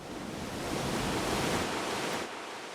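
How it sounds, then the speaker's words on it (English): Ocean waves recorded in Maui: a steady, dense wash of surf noise that swells slightly and then eases off near the end, with no voice. "this is a recording of Ocean Waves in Maui"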